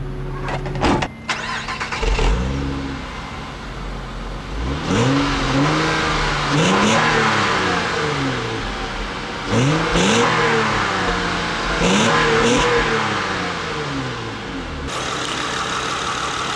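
The 3.2-liter J32 VTEC V6 engine of a 2008 Acura TL is revved repeatedly from idle, several rising and falling bursts, loud and close, with idling between blips.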